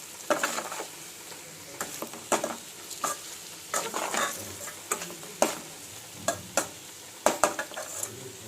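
Eggs fry in a pan with garlic chili powder, soft sizzling beneath repeated scraping stir strokes, a dozen or so irregular clinks and scrapes close by.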